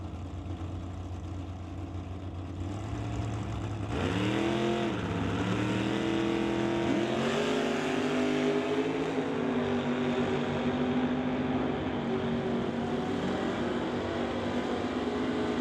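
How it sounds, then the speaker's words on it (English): A Nova and a Dart run side by side at an NHRA Summit ET drag race, heard from a distance as a rising engine roar that revs up and holds a loud, steady drone. "Vader getting there first, but that's a close drag race"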